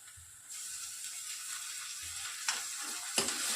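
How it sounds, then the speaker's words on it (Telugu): Golden fried onions with freshly added ginger garlic paste sizzle in a pan for an Andhra green chana masala. The loud, close frying hiss starts abruptly and continues steadily, with a couple of sharp stirring scrapes near the end. "కాస్త పచ్చివాసన వెళ్ళేంత వరకు దీన్ని ఫ్రై చేయాలండి"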